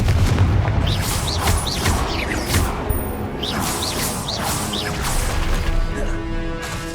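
Confringo blasting spells in Hogwarts Legacy on PS5 go off as a run of heavy booming impacts with rising whooshes, several blasts in quick succession over dense combat noise.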